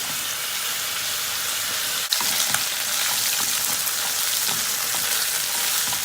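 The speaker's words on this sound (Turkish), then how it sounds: "Yüksek ateşte artık bunu çevire çevire bir ne yapacağız? Kızartacağız." Steady, loud sizzling of chicken caramelizing in a hot pan over high heat, continuous crackle with a brief clatter of stirring partway through.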